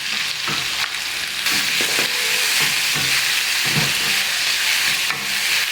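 Chopped onion frying in hot oil with curry leaves and cumin, a steady loud sizzle with intermittent stirring scrapes, no voices.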